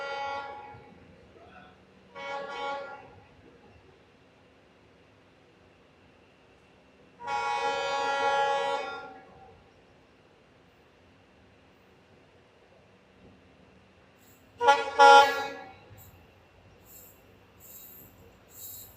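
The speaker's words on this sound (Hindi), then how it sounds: "तो सामने से जो ट्रेन आ रही है वो है हमारी सिलचर सियालदह कंचनजंगा एक्सप्रेस" The Silchar–Sealdah Kanchanjunga Express, hauled by a WDP4D diesel locomotive, approaches and sounds a series of horn blasts: two short toots, a longer blast and then a sharp final one, loud against a quiet rumble.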